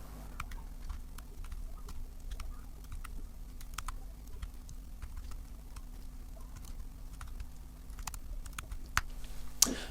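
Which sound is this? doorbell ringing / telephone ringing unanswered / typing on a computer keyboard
typing on a computer keyboard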